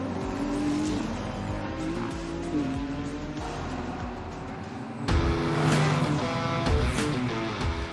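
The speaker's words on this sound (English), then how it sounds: "Ferrari 296 GT3 is a car that with a very strong electronic assistance." A Ferrari 296 GT3 race car at Monza in a racing video game: a loud, continuous engine note climbing and dropping through gear changes, surging louder and harsher halfway through with brief tire squeal.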